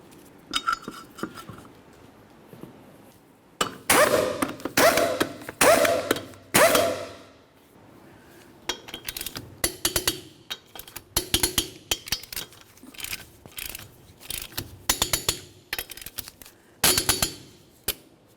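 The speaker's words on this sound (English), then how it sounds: "Start on all 4 of our 19mm lug nuts, bottom them out, get the wheel safely back down on the ground" Metallic clinks and rattles of 19mm lug nuts being threaded and run down onto a Chevrolet Cobalt wheel: quiet stretches broken by sharp, close, irregular bursts of metal-on-metal tapping and clanking.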